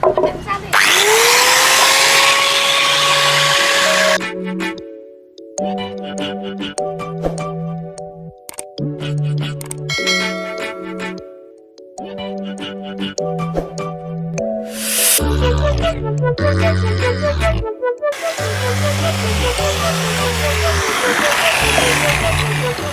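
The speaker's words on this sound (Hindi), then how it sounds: "ये मेरा ग्राइंडर है, अभी देखो।" Handheld grinder smoothing and finishing the shape of a wooden cricket bat in a workshop, a loud buzzing whine in bursts that stop and restart across the clip, with the pitch shifting as it presses into the wood.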